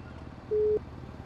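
A single steady electronic phone tone during a call to the police in a GTA roleplay game, one clean sustained beep lasting about a quarter second over low background hum, no talk.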